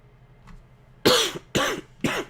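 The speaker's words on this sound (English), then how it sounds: "Excuse all the coughing, by the way." Three loud coughs in quick succession from a person who is getting over an illness, evenly spaced about half a second apart, close to the mic after a near-silent start.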